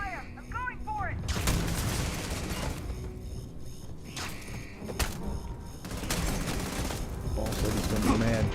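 Rapid gunfire bursts and heavy booms from a sci-fi shooter firefight in Starfield, loud and repeated in clusters with dense impact thuds between them.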